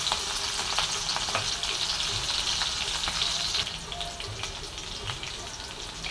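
Green chillies sizzle and crackle in hot oil, a steady close frying hiss with small pops, dropping slightly in level partway through, with no speech.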